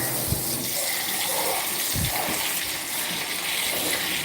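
Tap water runs steadily into a bowl while refreshing drinking water for cats, a continuous broad gush with a few soft low knocks and splashes, close and fairly loud, no voices.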